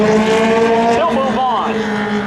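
At Seekonk Speedway spectator drags, a race car's engine drones loud and close with rising and falling pitch sweeps as it passes. An announcer talks over it.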